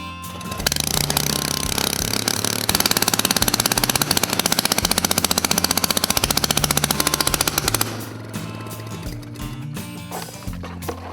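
Victa Imperial cylinder lawn mower engine with the muffler removed, revved in a short burst: a loud, rapid staccato of open-exhaust firing that spikes for several seconds and then drops back to a rougher idle.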